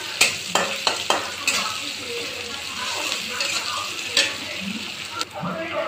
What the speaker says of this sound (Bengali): এটা একটু ভালো করে নেড়ে চেড়ে ভেজে নেব হালকা